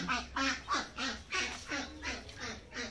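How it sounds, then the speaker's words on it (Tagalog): A mother duck on a countryside farm in Davao quacks in a rhythmic series of about seven close, loud calls, with a low background hum. "Ayun si Mama Duck, oh."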